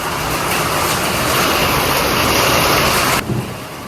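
Steady, loud rain pours down through most of the stretch, a dense wash of noise with a low rumble underneath that may be thunder, then drops off abruptly near the end.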